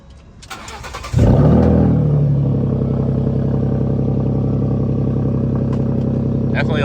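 A Ford F150 with catalytic converters and a true dual catback exhaust with straight pipes cranks briefly after a faint voice, then fires up loudly and settles into a deep, steady, toned-down idle rumble close by.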